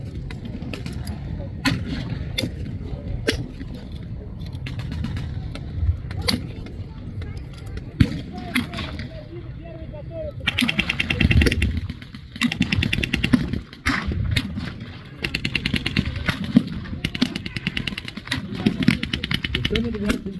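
Gunfire at a WWII battle reenactment at an Ontario military vehicle show: scattered sharp reports and bursts, some near and some distant, spread over a steady low rumble of outdoor noise, with a few stretches of denser firing.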